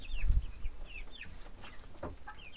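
Barred Rock chickens, young pullets and cockerels in a mobile chicken tractor, cluck and chirp in a steady scattered flurry close by, with brief low bumps of movement and no talking.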